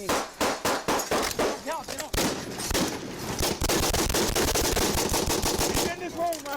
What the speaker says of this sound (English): That's automatic gunfire, guys.